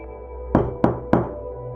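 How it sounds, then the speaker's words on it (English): Three slow, evenly spaced knocks strike a front door, each a sharp, loud thud with a short ringing decay, alone in an otherwise quiet space. "the knocking began. 3 slow, rhythmic strikes on the front door"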